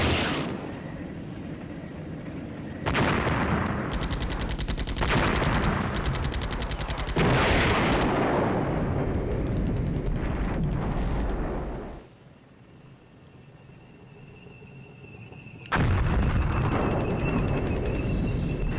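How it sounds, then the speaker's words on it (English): Gunfire and artillery from a Cold War-era war strategy game crackle in dense, sustained bursts with heavy booms, pausing briefly before loud firing resumes. "Why are you shooting over there, bro?"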